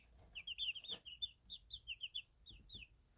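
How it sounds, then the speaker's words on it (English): Young chickens about 45 days old peep in a rapid run of high, thin calls that rise and fall, close and fairly clear over faint background noise, with no talking. "And we get a lot of peeping now"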